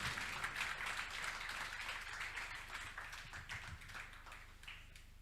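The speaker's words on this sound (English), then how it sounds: "You have to keep clapping until she reaches here." Audience clapping at a school event honouring teachers, a faint, continuous patter of many hands with scattered sharper claps, heard alone without talk.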